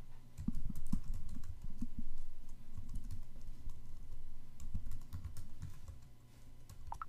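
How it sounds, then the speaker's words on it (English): Fingers tap rapidly on a computer keyboard right under a nearby microphone, producing a continuous stream of close, soft clicks and key thumps with brief uneven pauses and no talking. "I got this microphone right over my keyboard"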